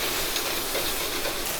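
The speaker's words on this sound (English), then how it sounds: "you can just add in a splash of water and that'll help. A little deglaze and a puff of steam." Water splashed into a hot pan while cooking onions for a coconut chicken curry, giving a steady, close hiss of steam and sizzle that holds evenly throughout without any talking.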